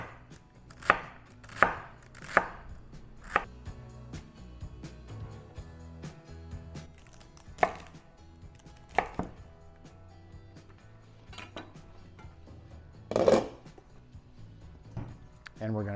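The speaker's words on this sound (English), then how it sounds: "we're just going to give it a rough chop" A knife chops carrots and onion roughly on a cutting board for mirepoix, sharp close thunks in an uneven series, some quick doubles, with a person talking between and over the cuts.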